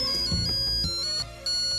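A phone ringtone plays a bright, repeating electronic melody, loud and close, with no talking over it.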